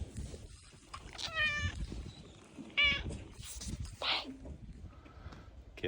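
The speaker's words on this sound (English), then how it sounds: "The farm cat." A farm cat meows twice, close and fairly faint, amid light background rustling.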